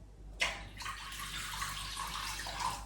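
Warm tap water runs into a large mixing bowl holding sourdough starter, a sudden splash followed by a steady close pouring stream that shifts slightly in pitch as the bowl fills.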